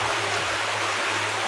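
Water from an underground aquifer rushes along like a river, a steady, close, full hiss of flowing water with no pauses and no voices.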